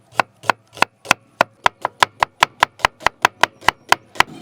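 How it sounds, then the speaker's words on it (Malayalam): Knife chopping onion on a cutting board, a steady run of about eighteen crisp, evenly spaced chops, close and loud with no talking. "ഇനി നമ്മുടെ സവാള അരിഞ്ഞെടുക്കാം കേട്ടോ."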